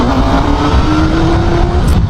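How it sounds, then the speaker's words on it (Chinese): A Honda CB500SF four-cylinder street motorcycle in sport mode, its engine climbing smoothly in revs in a loud, close, continuous pull with a rising tone and no talk. "它还是一台4缸机的这种特性啊，转速上升的这种过程"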